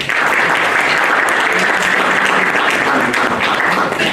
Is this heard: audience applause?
yes